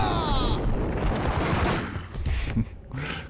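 Dense, continuous gunfire from the Max Payne shooter game on PS4, a sustained loud fusillade of overlapping shots with a few sharper bursts toward the end, heard alone without talk.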